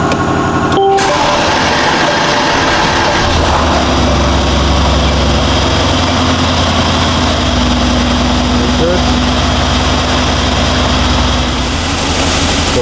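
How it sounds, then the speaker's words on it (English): A 2019 Mercedes-AMG GLC63s with the M177 engine, suffering misfires and a fuel pressure fault, idles steadily with a constant low drone. Loud, continuous and close, with no talk over it. "I do have the engine idling, and this is the fault counter going"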